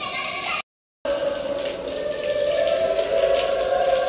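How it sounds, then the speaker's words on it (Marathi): Water falling and dripping steadily inside the rock-cut Pandavleni caves near Nashik, a continuous spattering patter that carries on after a brief gap. "तेव्हा कंटिन्यू पाणी पडतं इथं"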